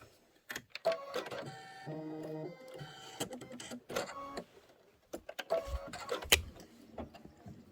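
Embroidery machine running a quilting stitch on a pillow block, quiet mechanical whirring with rapid rhythmic clicking and tonal motor bursts in short irregular runs, close by.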